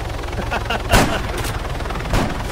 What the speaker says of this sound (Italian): Ma che c'è l'elicottero, ragazzi?